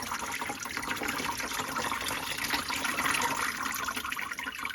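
Water running over tumbled peach and green aventurine stones being rinsed, a steady close splashing hiss that holds evenly throughout without talk.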